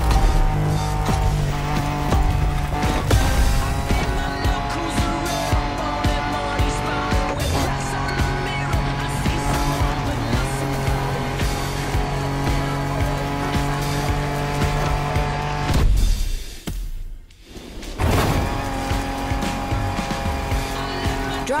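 Off-road racing in the video game The Crew Motorfest, with a loud, continuous engine roar, tires squealing and skidding, and a sudden brief dip near the end before the engine returns.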